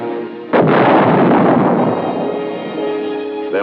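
A tank gun firing combustible cartridge cases lets out one heavy, booming blast that rolls on into a long, loud rumble, heard over a narrated 1960s US Army film soundtrack.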